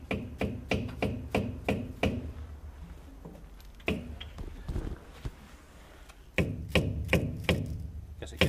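Several sharp metallic hammer taps on a bolt in quick succession while fitting muck spreader flails, a pause with faint rustling, then another rapid series of hammer strikes, fairly close.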